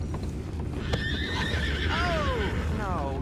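A horse whinnies in Red Dead Redemption 2, a falling, wavering neigh near the end, over a steady rumble of hoofbeats and background noise.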